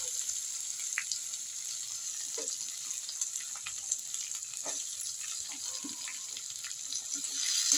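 Chopped onions fry with garlic paste and garam masala for chicken kasha, producing a soft, steady hiss of sizzling with scattered small crackles and clicks throughout, fairly quiet and alone.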